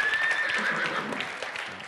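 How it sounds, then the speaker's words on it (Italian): A wildly agitated horse whinnies loudly in a sound effect played during a quiz show game, one shrill, wavering neigh lasting about two seconds with no talk over it. "Un cavallo molto imbizzarrito"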